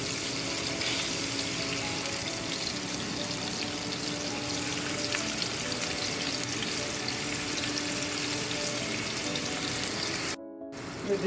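Sausage frying in a pan gives a steady, dense sizzle that runs for about ten seconds, then cuts out briefly before resuming in short bursts, with no voices heard.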